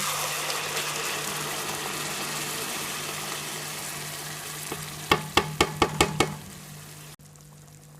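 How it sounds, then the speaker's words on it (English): Blended tomatoes hit golden-brown fried onions and crushed ginger in a Kenyan dish, giving a steady close sizzle, then a quick run of about six sharp taps on the pan before the sound cuts away. "Now it's time to put in the blended tomatoes"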